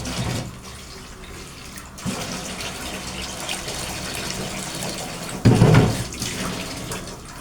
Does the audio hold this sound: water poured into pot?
yes